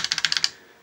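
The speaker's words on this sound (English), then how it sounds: "that's input from the keyboard" Keys clatter on a TRS-80 computer keyboard in a quick burst of about seven close, crisp taps, then fall silent.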